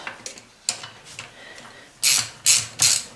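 Ratchet snugging up intake manifold bolts on a 1956 Buick LS swap, a few short clicking pawl bursts early, then three louder, closer ratcheting strokes in a steady rhythm.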